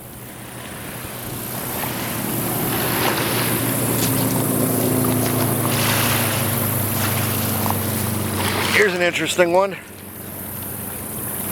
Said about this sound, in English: There's a lot of traffic on the river road today.